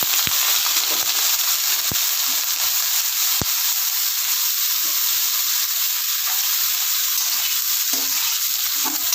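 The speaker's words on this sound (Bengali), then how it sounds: "বেগুনটা আমি যেমন করে বেগুন ভাজা হয় লালচে লালচে করে, সেরকমভাবে ভেজে নেব।" Cut eggplant fries in hot mustard oil in a wok, giving a loud, dense, continuous sizzle with occasional sharp crackles and no voices.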